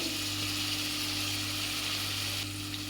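Onions, fennel seeds and green chilies fry in hot oil in a pan for tomato rice, a dense steady sizzle close by with a low hum underneath and no talking.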